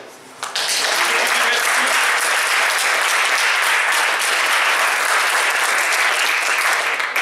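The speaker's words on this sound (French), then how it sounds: "je vous offre mes applaudissements" Audience at a president and secretary report meeting breaking into loud, dense applause after a brief quiet start, sustained clapping from many hands filling the room without letup.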